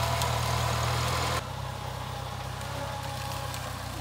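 A sugarcane grinder engine running, a steady low idling rumble that drops abruptly in level after about a second and a half, then continues evenly.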